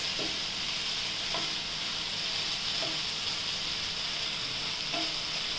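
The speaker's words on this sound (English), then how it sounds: "Give it a good mix so that all of our masalas and our sauces are mixed together" Masala and sauces stirred together in a hot pan, Soyabean Manchurian being cooked, with a steady close sizzle and a few soft spoon scrapes at regular intervals.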